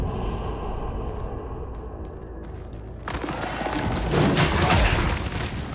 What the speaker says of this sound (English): Holy flashbang.